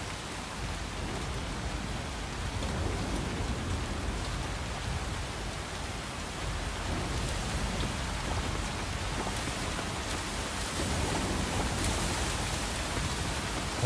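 Heavy rain in the video game Coral Island pours continuously, a dense steady hiss of drops with no voices, loud and unchanging throughout.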